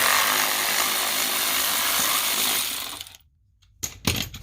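Work on a BMW 335i E90 N54 transmission oil cooler: a steady, dense scraping, whirring tool noise runs for about three seconds, stops abruptly, then a few short clanks and knocks follow.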